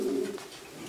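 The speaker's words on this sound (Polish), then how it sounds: "Gołębie są w bardzo dobrej formie." Racing pigeons in a loft give a low, steady coo that lasts under a second, then fade into soft background noise.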